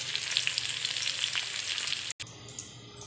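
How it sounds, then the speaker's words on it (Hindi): Potatoes frying in a pan with a steady, fairly loud sizzle and crackle, briefly cut off before resuming. "आलू को फ्राई करके लिया।"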